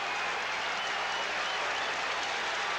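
Baseball crowd at Yankee Stadium cheering in the bottom of the 9th inning, a steady, dense roar of voices and applause filling the stadium without a break.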